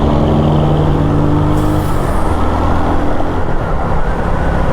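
Heavy highway traffic with big trucks in the left lane, a steady loud roar of engines and tires, a broadband wash of passing vehicles with a brief hiss partway through, heard from a Royal Enfield Hunter 350 motorcycle.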